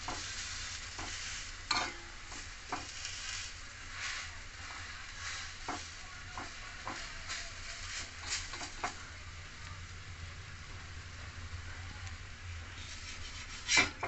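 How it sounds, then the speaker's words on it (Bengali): Besan cheela, a gram flour pancake with grated carrot and finely chopped tomato and capsicum, fries in a pan with a soft, steady sizzle. Scattered scrapes and taps of a spatula come through, close but quiet, with no talking. "এরকম সবকটা আমি ভেজে নেবো"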